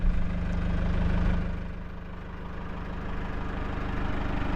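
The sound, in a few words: Mahindra 4-wheel drive tractor engine idling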